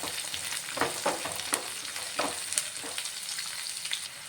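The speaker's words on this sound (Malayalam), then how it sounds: "ഇനി നമുക്കൊരു നൂറ് ഗ്രാം ചുവന്നുള്ളി ഒന്ന് അരിഞ്ഞതാണ് ചേർത്ത് കൊടുക്കാം ഈ ബീഫ് നമ്മളിങ്ങനെ ഫ്രൈ ആക്കുമ്പോൾ" Beef frying in a pan with chopped shallots, a steady close sizzle broken by occasional louder crackles and stirring scrapes, with no voices.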